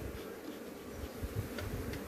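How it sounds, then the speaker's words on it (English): Honey bees at their hive give a steady, low, even buzz that fills the whole stretch, close and fairly quiet, with no voices over it. "If you notice the bees here, they get quiet."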